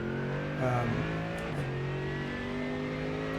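A race car engine in a racing video game hums at a steady mid pitch while pulling out of the pit exit at Canadian Tire Motorsport Park, with a brief rev blip early on, close and moderately loud, with no talk.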